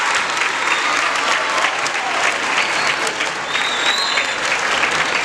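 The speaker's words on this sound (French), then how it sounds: "je vous demande un applaudissement de cœur pour nos vaillants professeurs" Students at Collège Saint Gabriel give their teachers a warm round of applause at a school ceremony, dense and steady clapping from a crowd, close and loud throughout.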